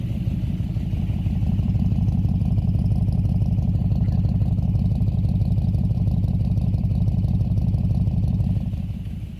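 A Buick 350 V8 idles steadily and close after a pushrod change, its idle just lowered, giving an even, loud, rhythmic low rumble throughout with no talking.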